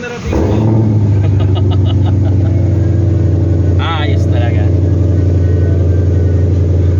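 A Ford Shelby Mustang GT500 engine rumbles loud and close with a steady deep drone that swells as it accelerates, while someone speaks briefly over it.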